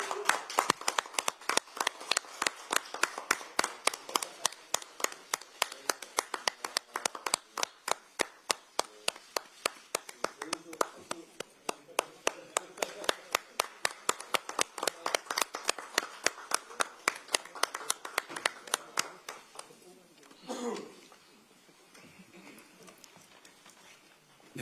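Rhythmic unison clapping from a crowd at a Democratic Party recruitment ceremony welcoming new members, sharp regular claps for about twenty seconds, then fading into scattered applause.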